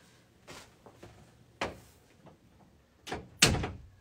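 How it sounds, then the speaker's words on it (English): A quilter closes a door in a home sewing room: scattered soft bumps and thuds build to a firm latch and a louder closing thunk near the end, close by and with no talk. "and I'm going to close my door."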